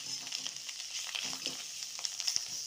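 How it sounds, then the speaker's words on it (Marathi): Karotya (spiny gourd) vegetable being stirred and fried in a pan, a soft steady sizzle with light scraping stir sounds at close range, no voices. "ही भाजी मी यात पूर्ण अशी भाजी घालली आणि अशी छान मिक्स करून घेऊया"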